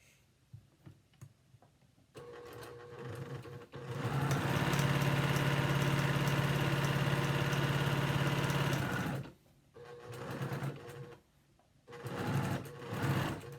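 A regular home sewing machine stitches half square triangle quilt pieces, starting with short ticking bursts, then a loud steady whirring run of several seconds, then shorter stops and starts.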